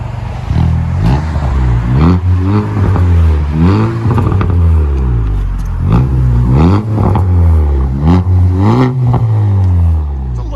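A 2019 Chevy Malibu turbo four-cylinder with a straight-pipe exhaust revs hard again and again, about five loud, close rising-and-falling rev cycles with no talking.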